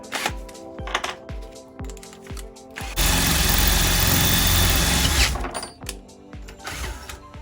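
Drill boring a hole through a metal box for hydraulic fittings during a hydraulic assist install: a sustained loud grinding whir in the middle stretch, with short clanks and mechanical ticks before and after.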